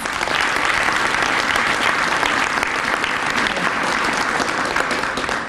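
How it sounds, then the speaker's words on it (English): An audience claps steadily and loudly at a police district awards ceremony, a sustained, even wash of applause lasting the whole stretch. "So give them a round of applause."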